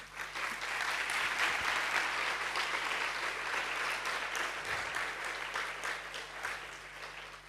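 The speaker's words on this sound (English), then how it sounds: "I think that is also worth a round of applause" A lecture audience gives a round of applause for student assistants, a steady, full clapping sustained throughout at close range.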